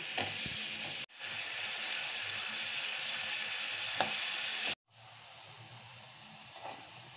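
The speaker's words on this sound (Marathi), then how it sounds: "आणि हा कांदा मऊ होईपर्यंत परतवून घेते" Onion sautéing in a hot pan until soft, a continuous close sizzle with occasional spoon clinks, cut off briefly twice, then resuming more quietly.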